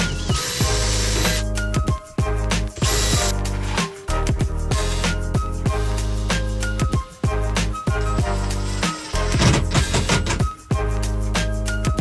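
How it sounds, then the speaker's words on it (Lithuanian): Ratchet tightening screws while building the floor of a poultry cage, sharp repeated mechanical bursts broken by short pauses, close and fairly loud. "dabar dar iš viršaus šiek tiek varžtelį pridėti ir viskas"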